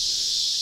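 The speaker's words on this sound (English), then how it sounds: "you're hearing all the cicadas, aren't you?" Cicadas drone outdoors in a dense, steady high-pitched buzz that fills the whole brief moment, loud and continuous with no other sounds standing out.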